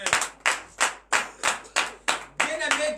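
A church congregation at a morning prayer service in Benin claps in unison, with sharp, loud, evenly spaced beats, then quicker doubled claps toward the end.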